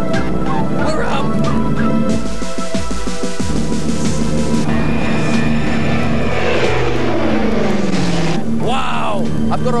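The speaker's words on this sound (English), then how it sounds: "This is a takeoff roll." Loud, steady propeller-engine roar building throughout, with a rising whine and rumble as a plane accelerates along the runway.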